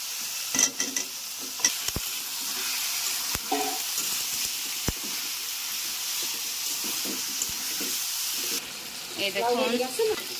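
Bottle gourd sizzles in a pan with ginger-garlic spice paste, stirred with faint scraping and sharp utensil knocks, and a brief burst of louder clattering near the end.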